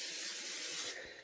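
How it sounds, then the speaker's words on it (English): Cooking spray hisses onto a steak being readied for the air fryer, a steady close burst lasting about a second before it cuts off. "spray both sides"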